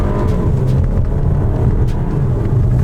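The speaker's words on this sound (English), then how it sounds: "give it a little downshift there, give it a little downshift again" A 2024 VW Tiguan Highline R-Line engine drones loud and steady from inside the cabin after a manual downshift, a continuous low hum with no clear change in pitch.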